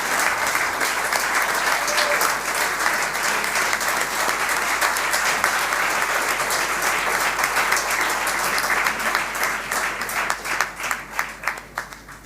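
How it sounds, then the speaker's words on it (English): Sustained applause from an audience at a 2019 college graduation ceremony honoring the graduates, dense steady clapping filling the room and thinning into more distinct individual claps near the end. "let's have a huge round of applause to all the graduates of this year."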